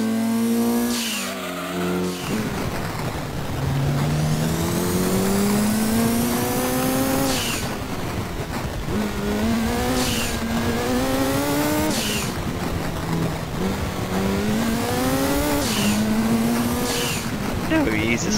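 A race car launching in Gran Turismo 2 on the Tahiti dirt route: the engine note climbs repeatedly through gear changes, with loud, continuous revving, tire noise and a voice talking over it.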